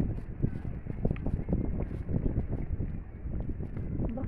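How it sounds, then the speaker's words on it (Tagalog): Gusty wind buffets the microphone outdoors in a park, a continuous low rumbling roar that swells and dips for a few seconds with no clear voices. "Pero mahangin."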